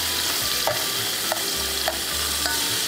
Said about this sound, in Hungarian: Amikor elkezd szépen aranybarnára sülni a szalonna, akkor hozzárakjuk a sonkát is.